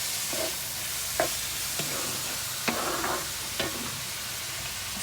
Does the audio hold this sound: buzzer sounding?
no